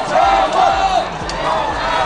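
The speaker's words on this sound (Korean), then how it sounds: "표창원 교수가 등장하자 광주 시민들이 환호합니다" A crowd of Gwangju citizens cheering and shouting as Professor Pyo Chang-won arrives for a free-hug event, a steady dense roar of many voices close by.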